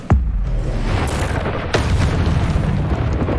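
Incendio fire spell cast in the Hogwarts Legacy video game, a sudden loud whooshing burst of flame followed by a second blast and a rumbling roar.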